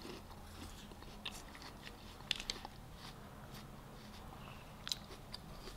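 Someone chews a crunchy honey-coated coconut snack, giving faint, scattered crunches and bites close to the mic in a quiet room.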